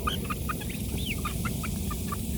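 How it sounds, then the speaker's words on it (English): Chickens clucking in a backyard flock as they grab food, a run of short, clipped calls and squawks over steady low outdoor rumble, no voices. "Oh, the chicken took it."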